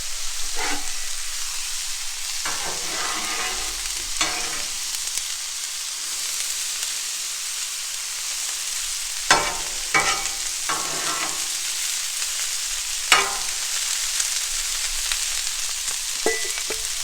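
Coleslaw-mix cabbage and carrots fry in a little oil on a Blackstone griddle, giving a steady soft sizzle broken by occasional scraping, stirring clatters and a few sharp spatula taps.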